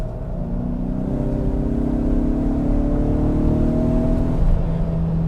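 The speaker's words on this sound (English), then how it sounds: "if you put your foot into it, or if you downshift and," A 2022 Ford Explorer Timberline's engine revs up on a downshift, its droning tone climbing steadily and loud from inside the cabin, then easing off near the end.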